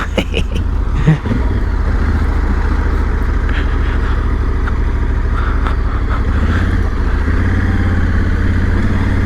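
A 2021 Honda Africa Twin Adventure Sport motorcycle rides down a green lane byway, its engine a steady, loud rumble close by with wind noise throughout and a brief bump near the start.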